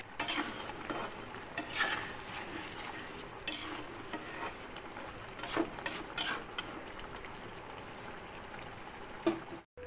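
Sea crab sour curry with mustard paste stirred by a spatula in a pan, giving steady scraping and soft sizzling throughout with a few sharper clinks and no voices.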